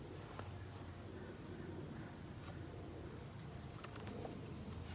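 Soft bird cooing outdoors, faint and somewhat distant, over a steady wash of ambient background noise.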